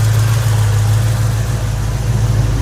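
A 1989 Chevrolet S10 pickup with a V-8 idles at about 850 RPM, a steady, even low engine hum with a strong rumbling tone, close and unchanging throughout, no speech.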